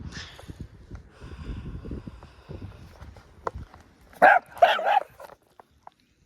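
A few sharp barks from a reactive Chihuahua mix ring out close by after a stretch of low shuffling and rustling, then the sound drops to near silence.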